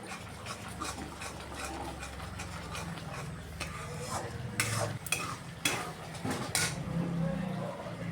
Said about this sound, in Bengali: যতক্ষণ না ফুটে উঠবে ততক্ষণ পর্যন্ত এই নাড়াচাড়াটা করতে হবে